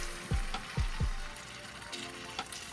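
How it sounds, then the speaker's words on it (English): Quiet, steady sizzling of butter in a hot pan, with a few soft low knocks near the start. "I know you'll hear that sizzling."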